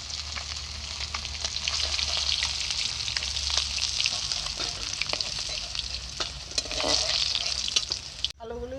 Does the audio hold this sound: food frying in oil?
yes